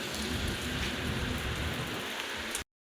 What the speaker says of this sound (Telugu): వర్షం ఉంది వర్షంలో ఉంది